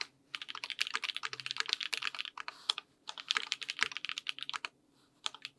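Computer keyboard typing from a League of Legends player, a dense run of rapid, close key clacks in bursts with brief pauses, loud and alone without speech.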